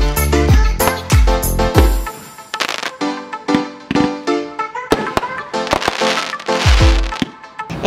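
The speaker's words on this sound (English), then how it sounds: "Felt like the fireworks were about 10 to 15 yards from the trailer." Fireworks burst just outside a trailer at night, some 10 to 15 yards away, in a rapid string of loud cracks and booms with crackling tails, several blasts following close together.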